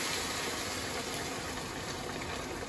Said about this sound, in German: Und jetzt schütte ich das Ganze einfach mit Wasser auf